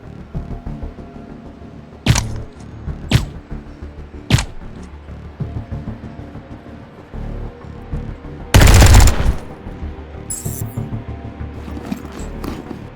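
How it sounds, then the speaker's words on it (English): Light machine gun fire in the Underrail RPG: scattered single sharp shots at intervals, then one louder, longer burst of rapid fire, with a few lighter clicks and impacts afterward over a low ambient background. "I don't want to use the LMG on you, but I kind of have to"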